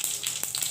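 Panch phoron five-spice seeds sizzling in hot oil in a pan, a brief steady bright crackle with small popping spits throughout.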